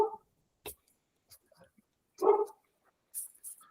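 Domestic dog barking at a neighbour's dog, heard as a few short, faint barks spaced apart in a quiet room, with soft whispery voices in the background.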